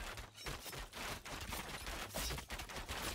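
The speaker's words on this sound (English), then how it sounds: "And then if I can shoot those guys." Gunfire from shooting enemies in the video game Thronefall: a dense, continuous clatter of rapid shots and impacts, loud and steady with brief dips, with no talk.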